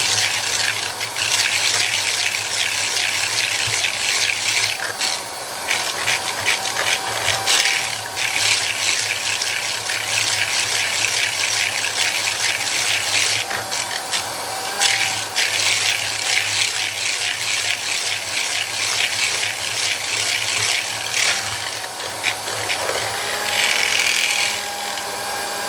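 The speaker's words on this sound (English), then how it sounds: "About this mixer, it's a KitchenAid." A KitchenAid stand mixer with its whisk attachment beats buttermilk cake batter, making a continuous, close, loud motor whir with a rapid rattling whisk texture and no talking.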